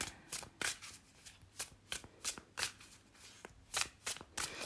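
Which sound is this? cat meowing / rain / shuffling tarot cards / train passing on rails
shuffling tarot cards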